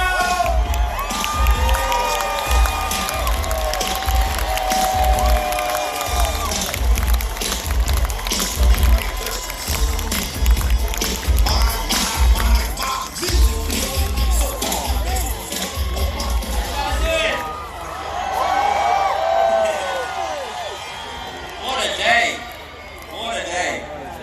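A huge crowd at Silverstone cheers and shouts in welcome for an F1 driver, a loud sustained roar with high whoops and children's shrieks continuing throughout, easing briefly near the end.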